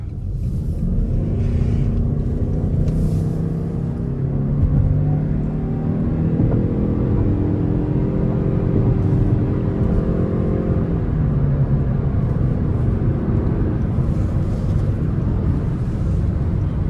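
A 2025 Toyota Crown Signia XLE hybrid with an electronic CVT accelerates moderately, its steady engine drone rising smoothly in pitch with no gear shifts under constant road and wind rumble from inside the cabin.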